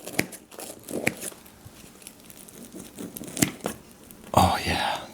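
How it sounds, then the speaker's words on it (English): A knife cuts through gluten-free focaccia with soft crackly tearing and scraping, a series of brief crisp crunches close up, ending in a louder rustling burst. "Let's cut a nice little piece."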